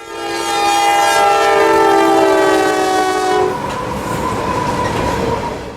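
A freight train of empty coal hoppers, running from Bostwick, Florida, back to Madisonville, Kentucky, sounds a loud, sustained multi-tone horn near the Folkston line. As the horn cuts off, the rumble of passing cars continues.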